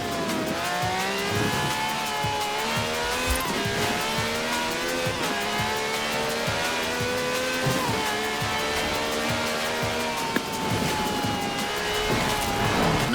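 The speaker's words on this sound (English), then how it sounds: "This has a V12 with over 750 horsepower, plus bucket seats" V12 engine of over 750 horsepower revs hard and continuously in a Forza Horizon 4 race, with repeated rising and falling pitch sweeps as it shifts through gears, loud and up close throughout.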